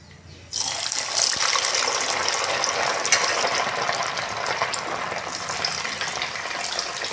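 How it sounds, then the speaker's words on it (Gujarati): Pieces of paneer drop into hot oil and set off a sudden, loud sizzle. The sizzle stays steady and close for several seconds with small pops. "પનીરના ટુકડાને તેલ ગરમ થઈ જાય તે અંદર મૂકીને ફ્રાય કરી લેવાના."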